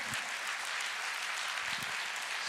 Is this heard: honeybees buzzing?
no